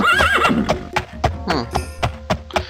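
A horse in the video game Daggerfall Unity lets out a loud, close whinny, followed by a steady run of clip-clopping hoofbeats.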